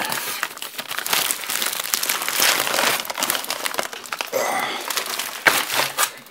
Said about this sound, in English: It's hard to cut a box open with one hand.